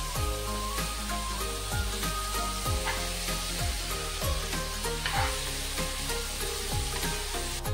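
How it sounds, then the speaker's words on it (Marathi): Chopped vegetables sautéing for shahi pulao, a continuous close sizzle punctuated by regular scraping and clanking strokes of a spoon against the pan, no voices. "सर्व चिरलेली भाजी त्यात घालून ती पण चांगली परतून घ्यायची।"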